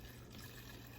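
Water is poured steadily into a small storm-protection model, giving a continuous, fairly quiet splashing and trickling wash that lasts the full second with no voices.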